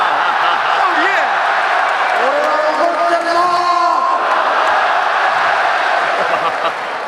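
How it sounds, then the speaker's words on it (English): A packed arena crowd at a 2002 Pride FC Shockwave mixed martial arts event keeps up a steady, loud roar and cheer throughout, with commentators talking over it. "Listen to this crowd."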